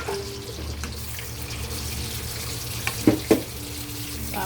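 Sponge gourd (patola) hitting hot oil in a pan for a sautéed vegetable dish, giving a steady soft sizzle and hiss with a few short louder pops and clatters near the end.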